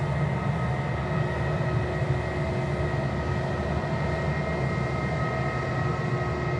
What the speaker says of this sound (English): It's just the first of the aircraft taxiing down south there along taxiway Charlie.